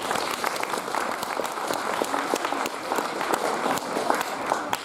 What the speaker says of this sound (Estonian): Martale aplausi ilusa esinemise eest.